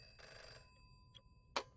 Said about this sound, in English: Go answer the phone.